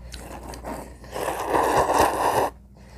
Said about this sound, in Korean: 김밥 한번 먹어봐. 이거 냉이 김밥.